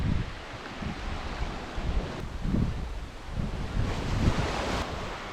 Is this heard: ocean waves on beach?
yes